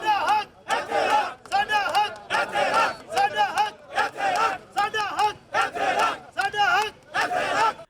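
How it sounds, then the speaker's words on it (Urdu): Protesting employees at a rally demanding allowances chant slogans in loud, rhythmic bursts of massed voices, a leader's call and the crowd's response repeating steadily with brief gaps between shouts. "ملازمین نے شدید نعرے بازی کی۔"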